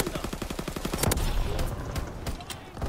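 Shotgun gunfire in a video game sounds as a rapid string of sharp shots, then louder blasts, then scattered further shots over a busy background mix of game noise and faint voices.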